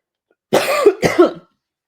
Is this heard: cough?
yes